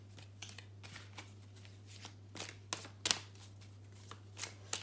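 Tarot cards shuffled and drawn by hand during a reading, giving soft papery riffles and crisp flicks in irregular bursts, a few sharper snaps near the end, close and fairly quiet over a steady low hum.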